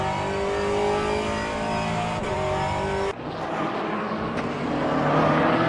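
A Ferrari endurance race car in a WEC race is heard from onboard, its engine holding a steady high drone, then cutting abruptly as it lifts off before revving back up.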